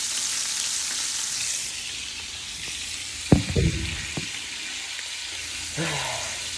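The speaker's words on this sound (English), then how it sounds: "this is how your chicken should be fried" Chicken frying in oil in a pan on a home stove, a steady broadband sizzle like running water throughout, with a few brief clinks and knocks of utensils partway through.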